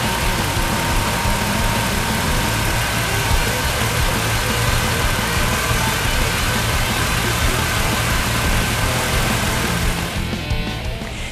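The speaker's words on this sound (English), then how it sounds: "Start your motor and make sure everything is running smoothly" A car engine idles steadily and close by after a cold air intake install, a smooth continuous rumble with a faint whine, easing slightly at the very end.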